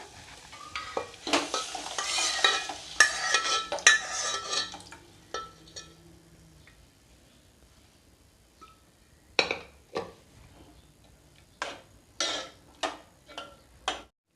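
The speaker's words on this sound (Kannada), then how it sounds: "ಕುದಿಸ್ಕೊಂಡು ಇಟ್ಕೊಂಡಿರೋ ಬೇಳೆ ಇದಕ್ಕೆ ಹಾಕೊಳ್ಳೋನು" Boiled lentils go into a pan with spices and coriander powder for Udupi-style sambar, followed by soft wet sizzling and then a run of sharp, irregular spoon scrapes and taps against the pan.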